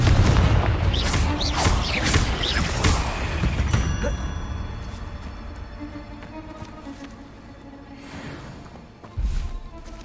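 A Confringo fire-spell explosion in Hogwarts Legacy bursts loudly in the opening seconds, then tails off into a low, fading rumble, followed by a short, sharper thump near the end.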